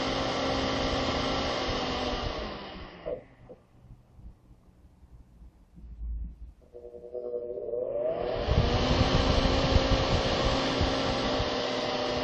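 A small AC electric motor with a fan drives steadily, dropping to near silence midway as its speed regulator turns it down, then spinning back up to a loud, even whirring hum.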